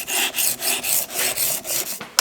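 A knife is being sharpened on a sharpening stone using the stone's full length: about eight rhythmic rasping strokes, loud and close, evenly spaced over a couple of seconds, with a small clink at the end.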